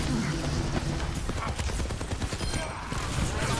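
A video game turret fires continuous rapid bursts, a dense, loud, relentless rattle of gunfire with no pauses and a voice faintly mixed in.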